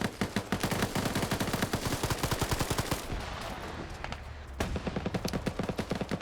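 Rapid, rhythmic machine-gun fire in a PvP military game match, a long sustained burst of evenly spaced shots that pauses briefly and then resumes just as fast and loud.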